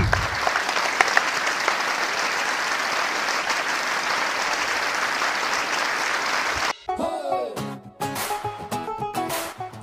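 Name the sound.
audience applause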